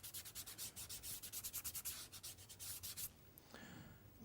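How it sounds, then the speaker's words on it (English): Pastel stick rubbed in long, rhythmic strokes along a woodland tree drawing, a close, dry scratchy scrape repeating steadily before tapering off into softer, lighter rubbing. "rub it the length of the tree"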